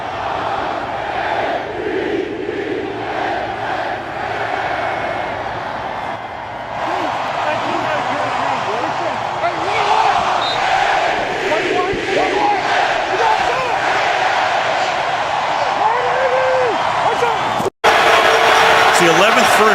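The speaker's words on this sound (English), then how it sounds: "the chant begins" A stadium crowd chants during an American football game, a broad rolling roar of many voices building steadily, with a louder swell near the end and announcer-style talk under it.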